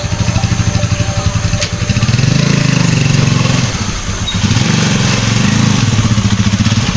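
A motorcycle engine chugs close by, idling with a steady thrum and revving up briefly a couple of times.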